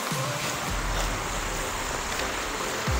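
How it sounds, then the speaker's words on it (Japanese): A steady broadband rush of falling water from a waterfall along a mountain river in Shinshiro, Japan, heard as continuous wind-like noise with no talk. "なんか滝の音が聞こえてきた"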